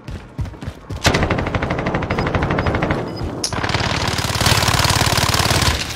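Rapid automatic gunfire in a video game, two sustained bursts of dense, loud rattling shots, the second starting after a brief break, with no talk over them.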